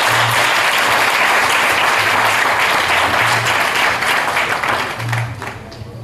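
A diploma ceremony audience applauds loudly and steadily for the partners, dense clapping filling the hall before it thins out toward the end.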